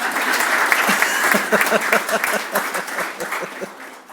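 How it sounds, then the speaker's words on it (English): At a teacher award ceremony, an audience gives steady, close applause with distinct individual claps in the mix, gradually thinning and fading over a few seconds. "We can give a clap to Janelle also."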